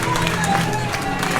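Wrestling show crowd clapping and cheering, a steady wash of applause and voices filling the room without pause, with faint talk mixed in.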